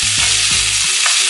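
Peppers and onions sizzle steadily in a pan over low-medium heat, a dense continuous frying hiss with soft scraping stirs repeating about every third of a second.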